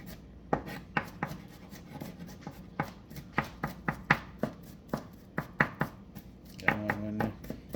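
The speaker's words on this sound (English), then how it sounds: "I'm cutting up my garlic, guys. I like to cut my garlic real fine" Knife finely chopping garlic on a cutting board for a Jamaican local meal, a run of sharp, close taps in an uneven rhythm, ending in a quicker burst of several chops.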